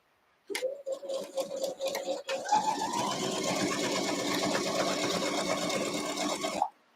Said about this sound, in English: This would really be a great beginner machine because it doesn't go super fast at its highest speed.